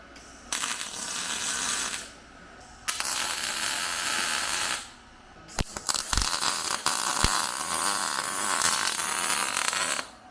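Tack welding a steel plate onto a cut 1960 Ford F100 truck frame, heard as bursts of harsh crackling buzz lasting about two seconds each, separated by short pauses, with sharp clicks and clanks in between.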